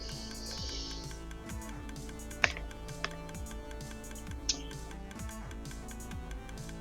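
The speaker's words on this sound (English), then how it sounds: "The clicking noise is an auto clock to transport the items upwards." Rapid, fine clicking from an auto clock moving items upward in a video game ticks steadily, with a few sharper clicks standing out over a soft mechanical hum.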